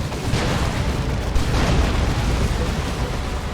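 A Demolisher Cannon fires in the strategy game Dawn of War 2: a dense, heavy blast with a rumbling boom that fills the whole clip, loud and continuous with no talk over it.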